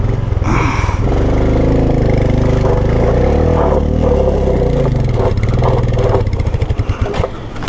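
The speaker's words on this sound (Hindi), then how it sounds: "पहले गियर पे एक्सेलरेट करते रहे।" A vehicle engine strains while accelerating in first gear on a steep mountain hairpin road near the Indo-China border in Spiti, a loud, close, rising drone with rattling clatter that fades out at the end.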